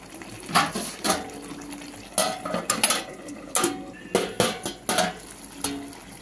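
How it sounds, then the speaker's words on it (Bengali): A metal lid clatters onto a pot of Bengali fish curry with greens and potato, a string of sharp clanks and scrapes of cookware in quick irregular bursts, close and fairly loud, with no speech. "আর একটু ঢাকা দিয়ে দেবো আবার।"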